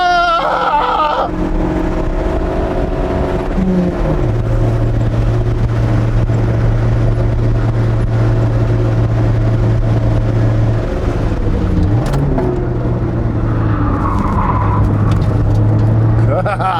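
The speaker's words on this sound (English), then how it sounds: "We need to take this Civic to the track as it is and see how slow it really is." A Honda Civic lapping a race track, its engine droning loudly from inside the cabin, holding a steady pitch with rises and drops through shifts and corners, while people talk over it.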